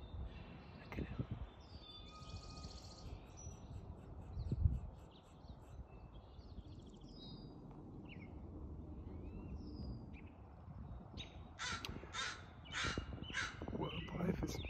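A crow caws several times in short bursts on a Seattle nature trail, clear above faint outdoor background noise, with the calls clustering toward the end.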